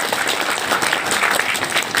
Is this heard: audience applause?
yes